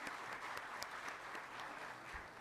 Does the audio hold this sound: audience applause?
yes